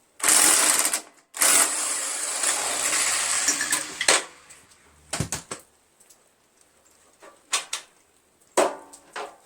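Metallic clanks, taps and ratcheting bursts come from work on the flywheel of a Briggs 17.5HP lawn tractor engine. They arrive in short, close, uneven clusters separated by quiet gaps.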